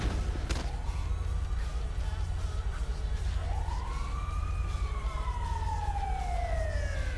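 An emergency siren wails in the FivePD police game over a steady engine-like rumble, its rising and falling tones sweeping clearly across several seconds.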